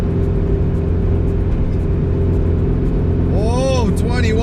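A 500 hp Subaru STI misfiring on cylinder 1, stumbling at 2,500 RPM while cruising at 100 km/h, heard from inside as a loud, steady engine drone and road rumble throughout, with brief warbling tones near the end.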